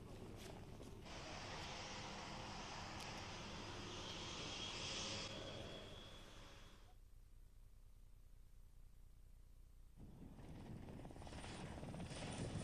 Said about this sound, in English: Be vigilant as the helicopter approaches.